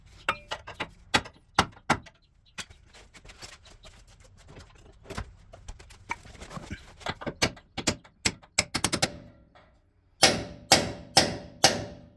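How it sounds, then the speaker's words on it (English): A hammer drives a chisel to break a spot-welded bracket off a Gen 1 Raptor during a front shock conversion. Sharp metallic strikes ring out close by, some spaced apart and others in quick runs, with a loud cluster at the end. "Good chisel in there. Break it off."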